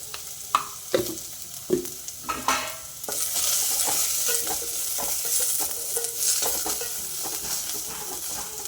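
Cumin seeds and cut onion frying in a pan for bottle gourd sambar, with a few sharp stirring clacks and taps giving way to a steady close sizzle that continues under light scraping.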